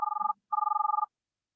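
An old-style telephone bell rings in two rapid trilling bursts separated by a short pause, clear and isolated against silence.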